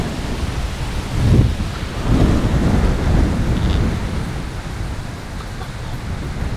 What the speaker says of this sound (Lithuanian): Yra vėjas.